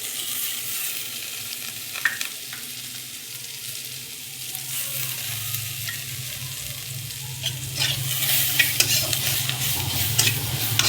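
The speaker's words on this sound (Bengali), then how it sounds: "এটা দিয়ে পেঁয়াজের সঙ্গে লাল করব।" Onions fry with ground fried red chili in a pan, a soft sizzle under repeated stirring and scraping of a spoon, growing louder and busier toward the end, with no talk.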